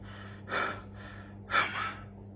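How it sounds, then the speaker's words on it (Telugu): A person pants and gasps for breath, with two sharp, airy gasping inhalations about a second apart over a quiet background. "ఆయాసపడడం ప్యాంట్ ఆర్ గ్యాస్పింగ్ అంటాం."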